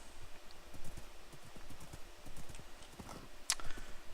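Several Minecraft horses in the video game, their hooves clip-clopping in a busy irregular patter, fairly faint but continuous, with a brief sharp higher sound near the end and no talk.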